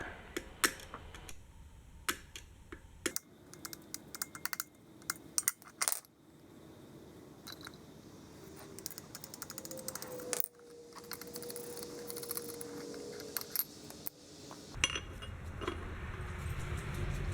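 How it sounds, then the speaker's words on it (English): Welding spatter is knocked off metal on a Wheel Horse 704 garden tractor during cleanup, producing repeated sharp metallic taps and clinks, scattered and irregular, with brief scraping and rattling in between. "I need to knock some of this welding spatter off of here."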